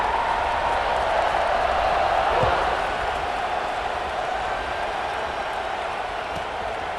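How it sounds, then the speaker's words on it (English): Stadium crowd in EA Sports College Football 26 during a kickoff: a dense, steady roar of cheering and applause, loudest early on and then easing to a constant wash, with no clear speech. "this crowd is feeling themselves after that last drive"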